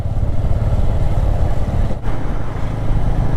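An Avenger 160 motorcycle rides a mountain road in heavy monsoon rain, its engine drone blended with loud, steady wind and rain rush that dips briefly midway, with no voices.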